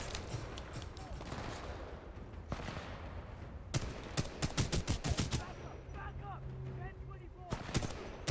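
Gunfire in the video game Titanfall 2, repeated sharp shots in quick bursts alongside other game effects, with a voice talking over parts of it.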